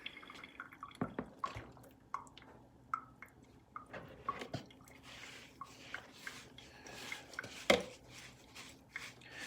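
Coconut coir seed-starting mix is stirred with moist, squelchy scrapes and wet drips. The scattered, uneven bursts are close and soft, and there is no talk.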